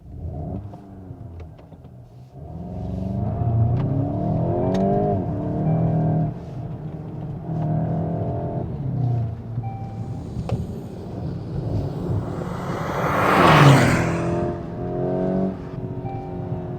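A Volkswagen Golf GTI hot hatch with a 2-litre four-cylinder turbo petrol TSI engine accelerates hard on a performance track, heard from inside as the revs climb through gear changes, loud and steady with a brief rushing burst near the end.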